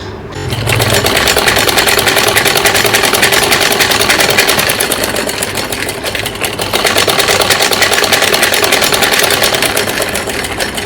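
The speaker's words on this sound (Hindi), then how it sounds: "मैं इस पर सिलाई लगा के ही मोड़ देती हूँ इस प्रकार से" A sewing machine runs continuously at high speed, loud and close, stitching the folded hem of a child's night suit with a fast even mechanical whir.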